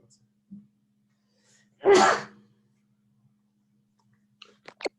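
A single sharp sneeze bursts out of near silence, followed by a few faint clicks.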